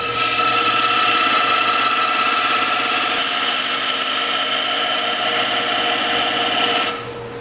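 A wood lathe spins at about 900 RPM while wood is textured for birdhouse ornaments, a loud, steady whirring hum with a rasping cut that holds nearly constant before dropping off near the end.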